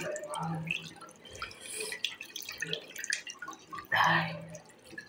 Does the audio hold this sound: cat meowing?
no